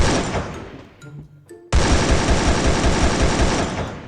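Automatic gunfire rips out loud in the Free Fire mobile game, a brief spaced burst of shots followed by a sustained, dense stream of rapid rounds.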